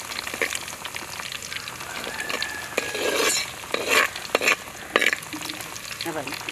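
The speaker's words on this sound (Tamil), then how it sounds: "இப்போ வெங்காயம் போட்டு தாளிக்கிறதுனால இது நல்லா கருவணும்" Onions sizzle and fry in a pan for fish curry, with a steady crackling hiss broken by scraping stirs and spoon clinks close by, and no voices.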